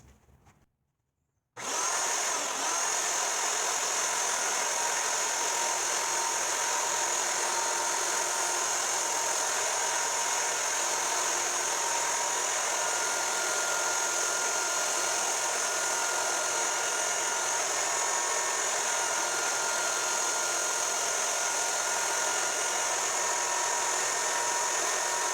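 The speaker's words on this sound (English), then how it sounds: "now I got my belt sander set up with 120 grit sandpaper. I'm just going to sand them down a bit" A belt sander fitted with 120 grit sandpaper smooths wooden toaster tongs, removing saw marks. After a brief quiet start, a steady, loud whirring drone runs unbroken and close for the rest of the clip.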